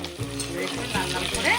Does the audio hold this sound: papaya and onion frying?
yes